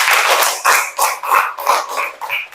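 A classroom group in an Indonesian religious-education presentation claps in unison, a quick run of about eight loud, evenly spaced beats in close succession.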